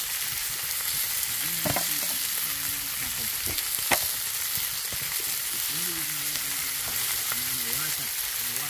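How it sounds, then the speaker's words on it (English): River fish sizzling and frying in a pan, a steady bright crackle of hot fat lasting throughout, with a few stirring knocks and someone talking over it. "Fry them, they are frying up, people."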